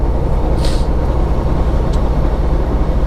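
A truck engine drones steadily at low pitch after a half-gear downshift into seventeenth, loud and constant from inside the cab, with a couple of brief hissing air releases.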